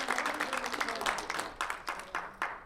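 Audience applause at a book-launch and independence declaration anniversary ceremony: a steady crowd of claps at moderate distance that thins into a few scattered, separate claps near the end.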